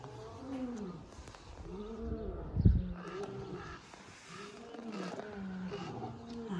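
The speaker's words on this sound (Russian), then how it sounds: "Это в вольерах рычат львы." Lions roar from their enclosures in a savanna park, a run of deep, rhythmic grunting roars heard at a distance, fairly faint, with one brief thump partway through.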